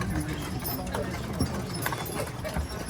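Teams of carriage horses on Mackinac Island clip-clop steadily along the road, hooves beating in an even rhythm, with voices and outdoor bustle in the background.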